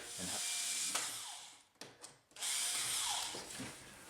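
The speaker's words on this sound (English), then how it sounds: "so I'm going to screw some sheetrock screws into there" A power drill drives sheetrock screws into a wooden base, with two close, loud whirring bursts separated by a brief pause and some clicking.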